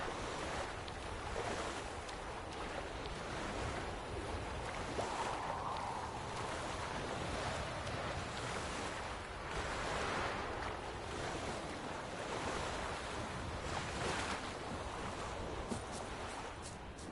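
Steady wash of water and surf from The Witcher video game, a continuous rolling roar of waves with wind, unbroken and fairly loud throughout, with no speech.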